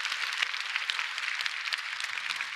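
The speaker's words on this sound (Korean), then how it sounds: "우리 하나님께 영광의 박수 올려드립니다" Congregation in a Korean church service applauding together, a steady wash of many hands clapping at even loudness with no talk over it.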